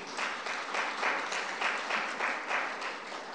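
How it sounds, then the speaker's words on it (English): Audience applause at an interfaith peace conference, a steady, dense wash of clapping from a crowd, moderately loud and continuous throughout with no talk over it. "Can we please affirm them with applause?"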